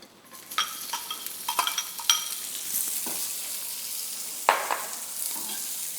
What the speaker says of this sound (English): we're going to cook our vegetables, the chilies and the onions